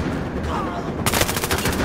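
Gunfire in the shooter Battlefield Hardline, a loud burst of rapid automatic shots in the second half after a muffled stretch of game noise.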